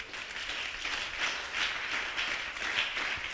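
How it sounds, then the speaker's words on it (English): A church congregation claps hands together during a worship service, a dense, continuous patter of many hands heard at moderate distance, swelling and easing in waves over a few seconds. "Clap for Jesus Christ."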